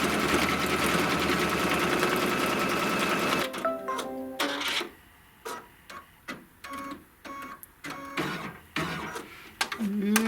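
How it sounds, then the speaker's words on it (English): Sewing machine running a decorative cover stitch on fabric with green thread, a steady loud mechanical whir for several seconds, then breaking into short stop-start bursts of stitching with brief pauses between. "when it stitches the cover stitch around this, it's a little decorative stitch."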